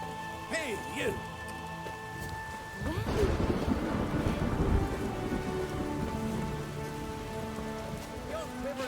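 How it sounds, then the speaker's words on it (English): Steady rainfall with rolling thunder in a Witcher 3 game scene, a dense patter of drops swelling midway over a low rumble, with voices speaking over the storm. "There's no point standing here in the rain"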